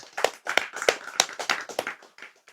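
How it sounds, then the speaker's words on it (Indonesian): Close audience clapping at a public talk, a burst of sharp, uneven hand claps over a couple of seconds that thins out toward the end. "Tepuk tangan, guys!"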